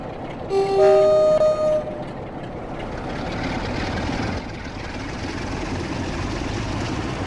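A train departing Brighton in the Train Sim World 6 video game sounds a loud two-tone horn toot, then settles into a steady low rumble of rolling wagons.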